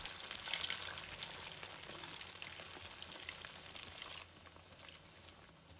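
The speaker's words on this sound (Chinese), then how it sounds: "将团好的丸子一个个放入锅中。" Radish balls sizzle and crackle steadily as they fry in medium-hot oil in a pan, a dense, close hiss that eases slightly toward the end.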